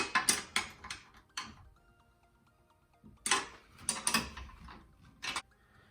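13 millimeter nuts are tightened under HornBlasters train horns mounted in a spare tire delete, with quick clustered ratchet clicks in two bursts separated by a quiet pause, close and fairly faint.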